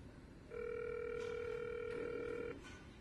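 A telephone in the video game Big Time Monkey gives a single steady electronic tone lasting about two seconds. It stands alone and fairly faint over a low background hiss.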